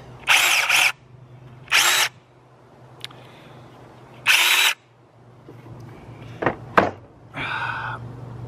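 A Seesii 8-inch battery chainsaw whirs in three short bursts separated by pauses, followed by clunks and a softer whir.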